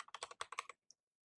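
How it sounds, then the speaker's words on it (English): Rapid burst of computer keyboard typing, about a dozen crisp keystrokes in quick succession, then a short pause and one last isolated key tap; close and fairly quiet, with no talking. "Oh god, what am I typing?"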